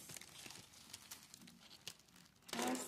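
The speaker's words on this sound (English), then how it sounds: "Sorry if you guys do not like the crinkling" A small gift bag crinkles and rustles close by in soft, irregular bursts, ending in a louder, fuller crumple.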